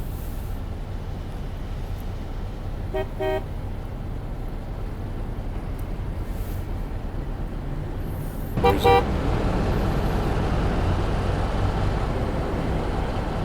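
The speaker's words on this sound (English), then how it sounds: "honking the horn ain't gonna help" Steady traffic rumble in a truck-driving video game, with two short car horn honks several seconds apart, the second one louder and followed by a heavier engine roar.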